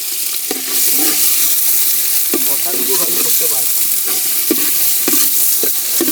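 Hot oil sizzles steadily in a cooking pot as onions are fried for chicken gravy, with a constant bright hiss and occasional metallic taps and scrapes from stirring.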